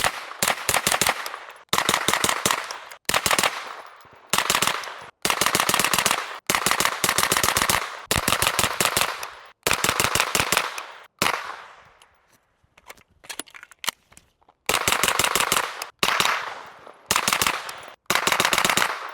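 Bursts of rapid, suppressed gunfire from a pistol-caliber firearm fitted with an Energetic Armament Sonus 9 suppressor, firing subsonic ammunition with a wipe installed. Each string is a tight volley of sharp, clipped reports, repeated in close succession with brief gaps between strings.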